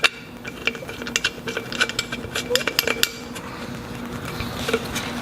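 Metal fitting screwed onto an Atom X20 spray gun, giving small clicks, light metallic clinks and scraping taps, close and fairly quiet over a faint steady hum.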